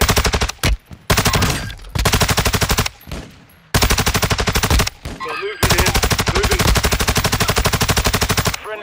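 Rapid automatic gunfire in a shooter video game comes in long sustained bursts separated by brief pauses, loud and close, with a few single shots between the volleys.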